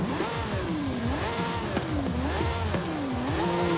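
A Lamborghini Sian Roadster engine in the Forza Horizon 5 racing game revs up and down in smooth, repeated swells, a loud, sustained V12-style whine with a few sharp shift clicks and no talking over it.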